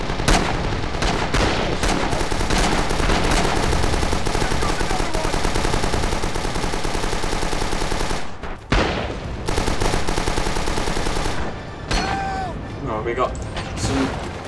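Artillery barrage and rapid gunfire in the WWII shooter game Red Orchestra 2, dense and loud continuous bursts of shots and explosions with a brief lull near the end, voices talking over the battle.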